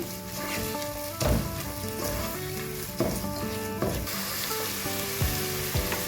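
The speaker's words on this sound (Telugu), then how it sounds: "ఇప్పుడు ఈ మసాలా ఇక్కడ యాడ్ చేసుకుని కొంచెం సేపు ఫ్రై చేసుకుంటే" Ginger masala paste for paneer pulao frying in a pan, with a continuous sizzle broken by a few sharp stirring knocks over a faint background tone.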